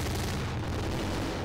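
A dense, sustained roaring blast fills the short clip, loud and close, like a big explosion rumbling on without letup, from an explosion in the video game My Summer Car.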